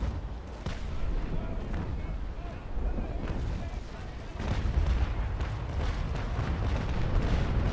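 Sailing warships trade cannon fire in the Naval Action naval game during a port raid, with a steady stream of deep booming shots and rumbling impacts. Players talk over it throughout.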